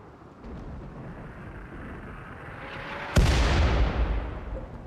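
A steel mortar fires in a hard desert survival game: one sudden heavy boom cracks out over steady wind-like ambience, then rumbles and fades over several seconds.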